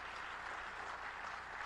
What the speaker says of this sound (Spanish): Yo quiero que a usted le den un aplauso a ese grupo que está ahí